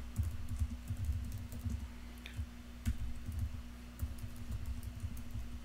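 PHP code typed on a computer keyboard, a close, steady patter of key clicks with brief pauses, heard alone over a faint hum.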